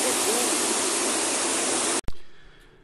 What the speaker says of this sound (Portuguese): Olha a cachoeira de toque-toque grande.